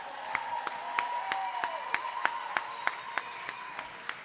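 Slow rhythmic clapping repeats about every third of a second under a steady tonal hum and a low murmur of the audience.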